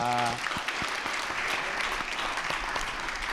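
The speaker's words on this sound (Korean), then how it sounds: "박수로 격려하겠습니다." Church congregation claps to encourage standing officers during a Sunday afternoon service, a steady wash of many hands at moderate distance, with a brief tonal voice at the very start.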